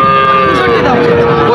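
A deep red bull calf at a busy cattle market lets out one long, loud, close moo that wavers in pitch over a faint background of crowd murmur.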